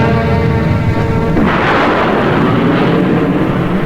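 A bomb launches in the Supercar puppet series: a droning tone gives way abruptly to a loud, sustained, rumbling roar that fills the rest of the moment.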